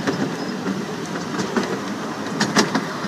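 A small tourist train runs along, with a steady rumbling ride noise and faint clicking and rattling from the cars, heard from on board.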